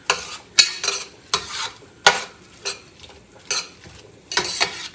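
Onions and red pepper fry in a pan while a utensil scrapes and stirs in sharp strokes about every half second. A soft sizzle runs underneath the stirring, close up.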